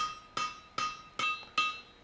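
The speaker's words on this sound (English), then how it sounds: "These are light hammer blows designed to guide the material rather than form it." Four evenly spaced light hammer blows dress a welded steel loop into a circle. Each strike is a sharp, close metallic tap with a bright ringing tail.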